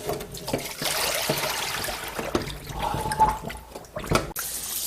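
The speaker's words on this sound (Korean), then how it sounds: "흐르는 물에 깨끗하게 씻어줘요." Tap water runs over pork backbones being rinsed for gamja-tang, a continuous splashing gush with clinks and knocks of the bones, close and fairly loud.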